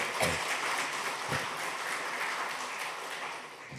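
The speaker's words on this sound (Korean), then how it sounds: "박수로 축하드립니다." A church congregation at a Sunday service applauds in a sustained patter of clapping that fades slightly toward the end, heard from a distance in a large room.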